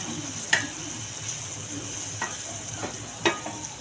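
Tomato frying in a pan gives a steady sizzle, broken by a few sharp scraping clicks as it is flipped over.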